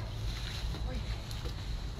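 Wind blowing outdoors during an open-air workout, a low rumbling buffet against the microphone that swells and dips throughout, fairly steady and close.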